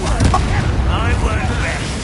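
A Bombarda blasting spell explodes in Hogwarts Legacy, a loud, rumbling blast that fills a short moment in a cave fight against goblin warriors.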